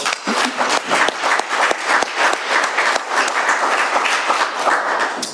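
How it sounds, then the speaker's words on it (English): A crowd claps continuously at an AA meeting, a dense and loud round of applause without voices. "Let's give Tony another round of applause"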